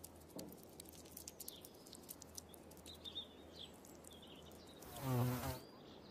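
Bees buzz faintly outdoors around flowers in short passing bursts, with one louder, close buzz drifting past near the end.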